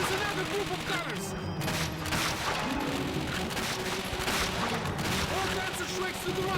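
Machine gun fire from the video game Call of Duty Finest Hour rattles in dense, continuous bursts amid battle noise, fairly quiet and steady throughout.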